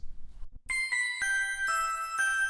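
A short chiming jingle of four bright, bell-like notes rings out in quick succession, clean and clear, lasting about two seconds.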